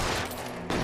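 A short burst of gunfire in L.A. Noire, rapid overlapping shots that cut off briefly before another loud shot lands at the end.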